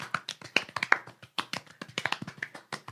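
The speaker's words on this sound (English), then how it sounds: "New segment, just clapping." Hands clapping in a podcast studio: a quick, uneven run of sharp claps, close and fairly loud, with no talking over them.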